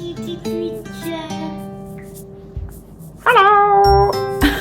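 A cat meows loudly and close by, giving several drawn-out tonal cries with a longer, rising wail near the end. No one speaks.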